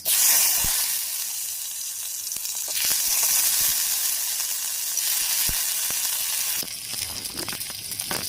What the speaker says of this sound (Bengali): ভাজা হতে হতে সময় লাগবে একটু